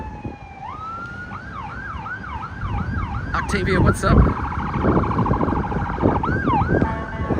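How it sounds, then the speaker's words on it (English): An ambulance siren wails in a rapid, repeating up-and-down pattern as it passes nearby on the Las Vegas Strip at night, with a brief spoken greeting and street traffic beneath. "it wouldn't be Vegas without an ambulance"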